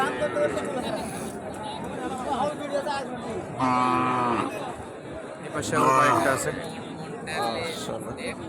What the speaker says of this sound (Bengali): এই যে দেখতেছি এখানে একটা লাল কালারের গাভী